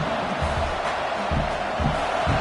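A stadium crowd in a football video game cheers at full throat, a dense continuous roar with low thumps beneath it.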